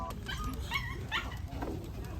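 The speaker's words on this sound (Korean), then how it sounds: "강아지가 안에 못 들어가서 밖에 나와 있어요" A small dog waiting outside a café on a family trip in Gijang, Busan, gives soft whimpers and short yips over a busy background murmur of people talking.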